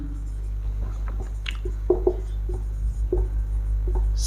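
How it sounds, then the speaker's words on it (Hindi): Marker or chalk scratching and tapping on a board in short strokes, close up over a steady low hum, with a few quiet taps in between. "सबसे पहले इसको लिखते हैं"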